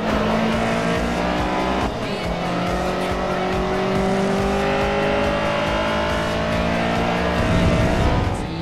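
Honda car racing on a short school circuit in Forza: a loud engine revs and climbs through gear changes, with tire squeal and other cars passing close. The noise is continuous and busy.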